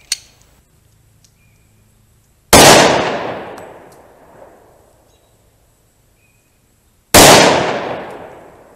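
Two loud, sharp .45 Auto +P pistol shots firing Speer Gold Dot rounds at targets, spaced several seconds apart, each with a long booming decay, preceded by a faint tap.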